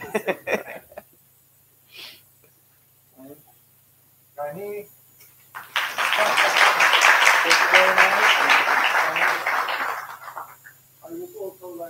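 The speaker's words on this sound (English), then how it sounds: "big round of applause for her." An audience at a university cyber-security panel breaks into a burst of applause lasting about five seconds, with short bits of speech before and after it.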